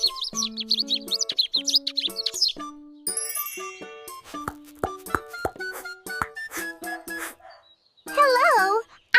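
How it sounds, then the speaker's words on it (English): A sparrow chirps in quick, high, warbling bursts at the start and again near the end, with bright bell-like musical tones ringing in between. "Hi, I am a sparrow."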